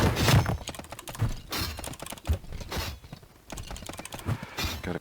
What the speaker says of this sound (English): And yes, I am using a mechanical keyboard for this.